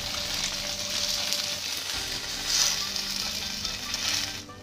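Tofu frying half-done in hot oil, a steady close sizzle and crackle with a couple of louder spits and pops, no talking.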